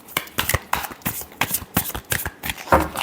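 Tarot cards shuffled by hand up close, a quick series of crisp riffling bursts in an uneven rhythm, loud and dry with no talking.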